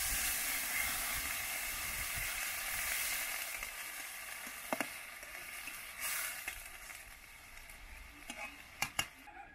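Fried potatoes in a pan sizzle steadily after water is poured in for a fish curry, a continuous close hiss that slowly settles, broken by a few sharp clinks of utensils near the end.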